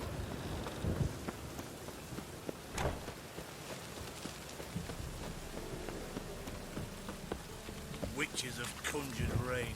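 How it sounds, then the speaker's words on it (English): Rain patters and hisses steadily across a dark woodland in The Witcher 3, a constant wash of drops with a few sharper bursts near the end. "Witches have conjured rain."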